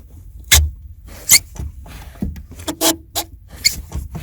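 Short squeaks and rubbing creaks from a car's clutch pedal still wet, several irregular bursts up close with no voices.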